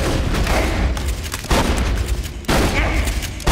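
Shotgun fire in Borderlands 2 co-op play with Krieg and Axton: loud blasts land about once a second, roughly three or four in a steady rhythm, over busy battle noise.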